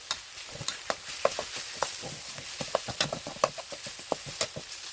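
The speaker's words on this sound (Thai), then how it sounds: "ตอนนี้ก็คือมาผัดกะเพราเนื้อหมูครับ" Minced pork is stir-fried in a pan for Thai pad kaphrao: quiet close sizzling with a steady series of scraping, clicking spatula strokes against the pan, irregular but frequent.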